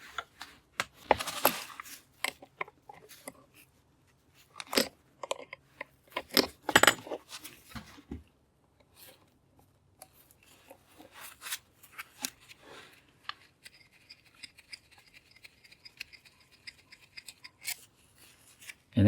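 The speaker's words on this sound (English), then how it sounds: "now that it's broken free, I can use my adjustable wrench" An adjustable wrench working a stiff, oily fitting on a sealed refrigeration unit being scrapped for copper: irregular close metallic clicks, ratchety scrapes and clinks in bursts, with a thin rasping stretch toward the end, no voices.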